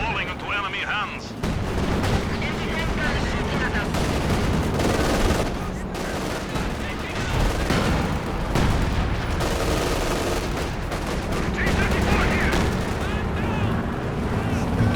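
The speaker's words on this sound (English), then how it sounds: "152 mil artillery coming down again" 152 mm artillery raining down during a Company of Heroes 2 battle: sustained heavy barrage with repeated booms, gunfire and explosions across the whole stretch, loud and close, with a voice talking over the din.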